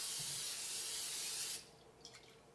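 Great Value cooking spray hisses into a pan in one loud, continuous burst of about a second and a half, then cuts off, leaving faint kitchen clatter.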